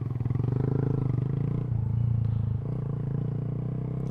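A Honda Grom motorcycle fitted with a new exhaust rumbles loudly and steadily up close on a late night ride, its low pulsing note shifting slightly as the throttle changes.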